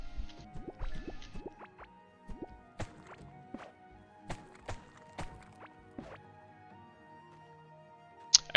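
Water drips and splashes in the Core Keeper video game, a series of crisp, close plinks at irregular intervals over a faint tonal ambient background.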